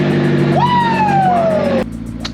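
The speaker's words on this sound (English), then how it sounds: "That's the sound of a running McLaren" A McLaren sports car engine runs steadily and loudly near the listener, with a rising whine sweeping in early and slowly falling away before the sound drops sharply to a quieter idle near the end.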